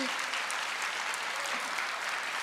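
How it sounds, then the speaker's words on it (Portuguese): A church congregation applauds steadily, a dense wash of clapping from many hands throughout. "Vamos aplaudir ao Senhor."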